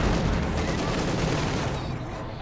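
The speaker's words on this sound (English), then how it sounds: "nice hit from the Panzer IV, blowing up half the Nockhart's infantry squad" A dense, continuous roar of gunfire and explosions in a video game battle, including a Panzer IV tank gun hit on an infantry squad, fading slightly toward the end.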